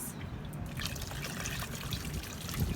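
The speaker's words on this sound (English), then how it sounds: "So just a little bit more water. I usually fill this bucket a little over halfway." Water poured into a garden bucket, a steady close splashing trickle with soft gurgles, fairly quiet and continuous with no talk.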